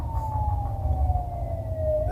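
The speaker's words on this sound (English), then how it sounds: "this would be interrupted by the distant sound of police sirens." Distant police siren wailing faintly in a single slow falling sweep, thin and far off over a low rumbling background, with no voices.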